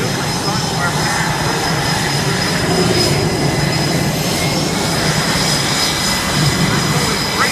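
Military aircraft of the GEICO Skytypers flying in formation at an air show at Naval Air Station Oceana, a loud, steady, broad engine roar filling the whole stretch.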